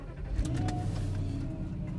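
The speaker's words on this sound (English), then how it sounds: "doing a test drive after the ABS pump motor got replaced" A Volvo XC90 V8 on a test drive after an ABS pump motor replacement, its engine a low, steady cabin hum with faint road noise and a few light rattles, no one speaking.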